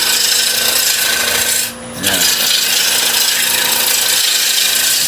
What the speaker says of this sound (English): What we're doing at the moment is a pull cut.